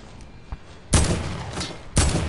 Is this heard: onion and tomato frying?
no